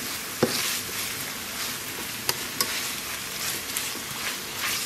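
Ground meat fries in a pan with a steady close hiss and crackle, broken by a few sharp pops and scraping stirs, with no voices.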